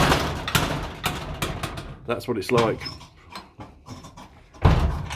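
A heavy wooden garage door with faulty springs drops and bangs shut in one loud, close thud near the end, after someone talks over rattling handling noise.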